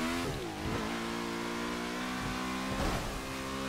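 A Lotus 67 race car in a racing video game at a wet Brands Hatch, its engine whining and revving steadily with rising and falling pitch sweeps, loud and continuous with no talk.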